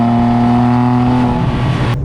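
A 2010 Porsche 997 GT3 RS 3.8 with a manual gearbox holds a steady, loud, close engine note with strong tonal hum, which then shifts and fades slightly as the car pulls away near the end.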